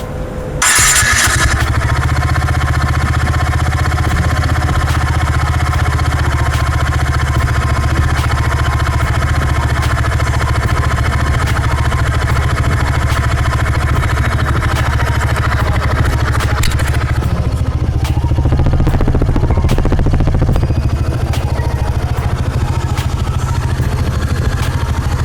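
A TVS Ntorq scooter engine starting up and idling steadily, a continuous close mechanical hum and clatter that changes character near the end.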